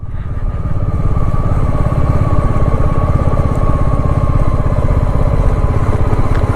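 A motorcycle engine idles steadily and loud up close while the bike stands stopped on a cold mountain road on the way to Darjeeling, a continuous low rumble throughout with no talk.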